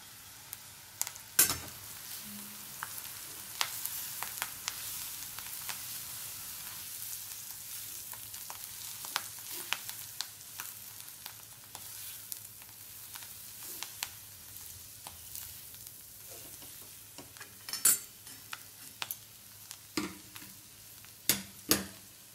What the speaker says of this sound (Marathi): लसूण थोडासा लाल झाला की आपल्याला ही भाजी टाकायची आहे